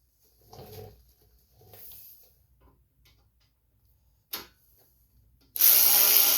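A few short ratcheting clicks tighten bolts on the carburetor of a Poland Pro nine-and-a-half horsepower snowblower, scattered between quiet gaps and ending in a loud burst of broadband noise.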